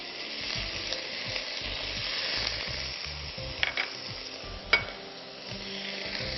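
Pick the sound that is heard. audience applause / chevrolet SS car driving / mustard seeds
mustard seeds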